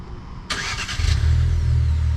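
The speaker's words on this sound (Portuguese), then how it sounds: "Ligou o motor" A Fiat Pulse Abarth 1.3 turbo engine starts by remote start, with a short starter whirr and then a steady low idle rumble, close and fairly loud.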